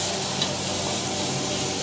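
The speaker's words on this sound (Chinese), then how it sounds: "他已经开始炒菜了，现在啊。" A cook in a small, long-running, unsigned Chengdu eatery stir-fries food in a wok, giving a dense continuous sizzle with scraping stirs, close and fairly loud, with no talking.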